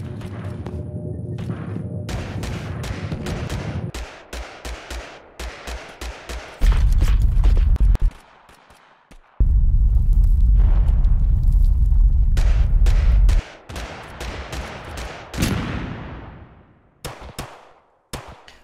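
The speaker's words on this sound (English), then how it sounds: "Oh, somebody just shot a rocket at me." Rocket blasts and gunfire in the video game Totally Accurate Battlegrounds: sustained booming rumbles and bursts of shots, interrupted by sharp single cracks and thuds, loud and close, with no voices.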